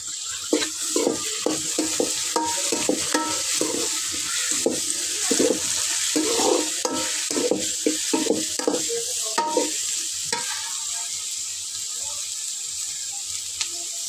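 Crab sukka masala with curry leaves, tomato and turmeric sizzles in a pan, a steady fry punctuated by repeated scraping and stirring strokes, heard up close throughout.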